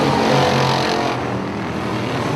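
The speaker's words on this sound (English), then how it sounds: "Look at Les Couch really drive that new red truck down into the corner, right up onto the rear bumper of Terry Pric" A loud Pro 4 race truck engine roars continuously at a speedway, revving hard and steady into a corner with a close, dense motor drone throughout.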